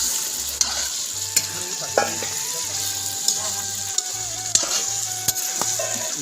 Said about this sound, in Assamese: এতিয়া কাটি লোৱা আলুখিনি দিলোঁ, ভালদৰে লৰাই লওঁ এইখিনি